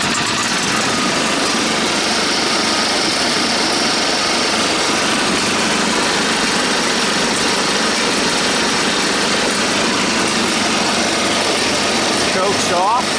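A 3200-watt portable generator, recently rain-submerged and abandoned, runs after a cold start with a loud, steady, buzzy engine drone close by. It runs without a break for the whole stretch.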